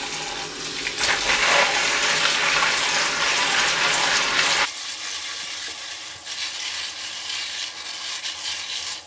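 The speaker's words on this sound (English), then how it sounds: "I'm going to dump all that water out and get a little rinse going." Water being dumped out of a bin of plastic pellets, then a rinse starting: a loud, steady gushing pour for about four and a half seconds, followed by quieter running water and splashing.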